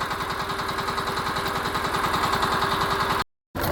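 A tractor engine runs steadily at close range, a loud rhythmic diesel chug with a constant low throb, cutting off abruptly near the end.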